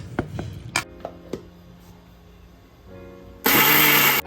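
A kitchen mixer grinder whirs loudly for about a second near the end, grinding soaked rice, chillies and grated coconut. Before it, a few sharp clatters and knocks sound as ingredients go into the jar.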